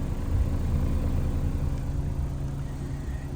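A 2025 Honda Civic Sport idles at the exhaust, a steady low rumble with a constant even drone, close and unbroken for the few seconds.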